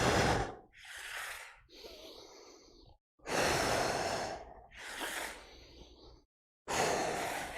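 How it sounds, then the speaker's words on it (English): Sharp, forceful breaths exhaled through the mouth during a rotating front plank on one arm with a glider, four or five strong bursts with short quiet gaps, close and loud, no talking. "I like to add that exhale as I rotate"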